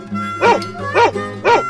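A dog barks three times in an even rhythm, each bark close, loud and clear over a steady background tone, with short gaps between them.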